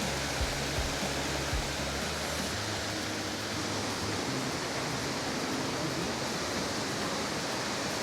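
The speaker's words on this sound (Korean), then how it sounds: "저쪽 앞에도 폭포가 있는 것 같아요." A steady, broad roar of a waterfall in the jungle fills the scene, constant and fairly close with no other sounds standing out.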